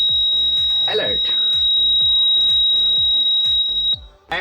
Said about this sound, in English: I have brought my hand in front of the ultrasonic sensor, and you can see the buzzer is buzzing.